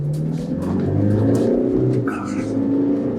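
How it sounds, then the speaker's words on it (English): A Toyota Land Cruiser Prado SUV in Sport mode pulls away from a standstill, its engine droning and rising steadily in pitch inside the cabin, loud and continuous, without a dramatic surge. "This particular model's got a Sport and a Sport Plus, so to see if it really pulls away quickly"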